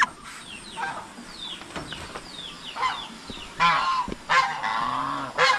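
Farm geese honking in a backyard poultry setting in the Philippines, repeated nasal calls rising and falling, some loud and close, with someone speaking between them.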